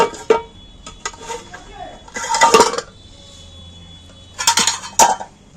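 A metal lid clanks onto a pot of village-style mutton curry in two clattering bursts of rattling metal, with faint clinks between and no voices.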